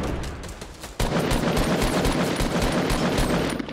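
Rapid automatic gunfire in the Fortnite battle royale game, a dense, loud stream of shots that begins abruptly about a second in after quieter sporadic fire.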